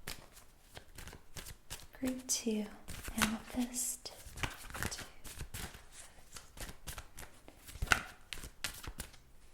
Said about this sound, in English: I'm going to shuffle in real time today.